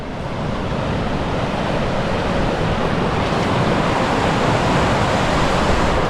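Steady broadband rush of water along the banks of the Guadiaro river beside a rural farmhouse, a continuous, fairly loud wash with no breaks and no voices.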